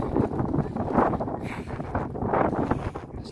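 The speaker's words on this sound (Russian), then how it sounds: "Тут уже ветер посильнее" Strong, gusty wind roars and buffets the microphone continuously on the hilltop of Vuosaaren huippu, Helsinki, swelling and easing in waves, loud and close with no clear voices.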